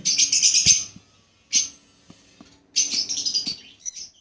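Pet birds for sale, including sun conures, chirp and tweet in rapid bright bursts, close and fairly loud, with short pauses in between and no voices.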